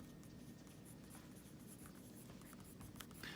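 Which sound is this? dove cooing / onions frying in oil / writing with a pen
writing with a pen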